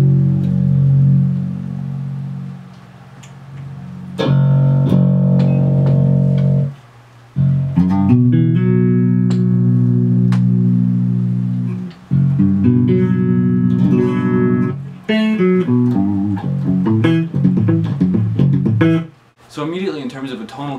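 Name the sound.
electric guitar clean tone, Lace Aluma Deathbar pickups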